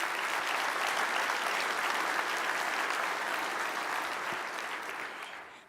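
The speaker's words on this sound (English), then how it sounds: "Let's give them another round of applause" A large audience at a fire industry general session applauds the Fire Chief of the Year winners, dense sustained clapping that holds steady and then gradually tapers off.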